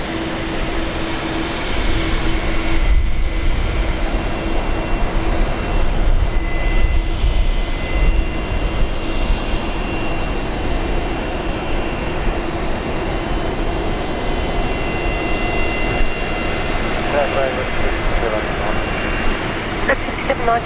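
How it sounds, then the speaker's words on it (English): Jets at Brisbane International Airport, including a Jetstar Boeing 787 and a Qantas airliner, produce a sustained roaring engine drone with a high whine, heard from a distance beneath a talking voice. "Got a Jetstar 787 and a Qantas butter machine as well."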